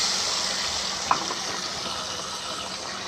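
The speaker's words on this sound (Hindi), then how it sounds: "प्याज को बिल्कुल अच्छे तरीके से भून लेंगे" Onions and tomatoes frying in a pan for lobia masala, a soft steady sizzle with one brief clink of a utensil early on, close and without voices.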